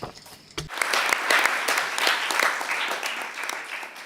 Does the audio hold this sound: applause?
yes